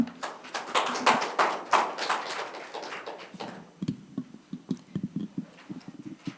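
An audience at a North–South Korea science and technology exchange forum applauds to welcome a professor to the podium: dense, full clapping for about three seconds, then thinning to scattered, separate claps.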